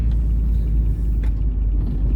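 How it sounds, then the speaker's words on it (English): A lowered Mercedes W126 300SD driving, its steady deep engine and road rumble filling the cabin continuously, with no talking. "this car still drives pretty good."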